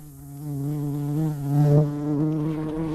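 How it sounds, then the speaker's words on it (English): Bee buzzing close around a GoPro camera outdoors near water, a steady droning hum that swells louder and closer midway, with no speech. "There's actually a bee on my GoPro right now on the side."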